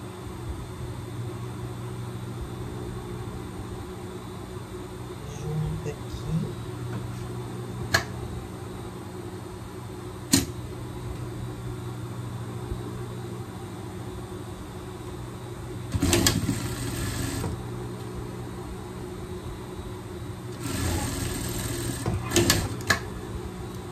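A sewing machine stitches a side seam of a pet bikini in short bursts, with a steady mechanical hum underneath and a few clicks, fairly quiet and close.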